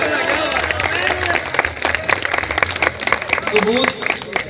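At a Urdu poetry mushaira, a crowd claps and cheers in a dense patter while voices talk and call out over the applause throughout.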